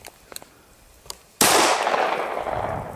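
A Glock 17 pistol wrapped in a condom is test-fired once: a few faint clicks, then a single loud, close report that rings out and decays slowly.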